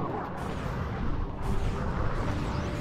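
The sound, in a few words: mini rocket tube firing in Ratchet and Clank 2 video game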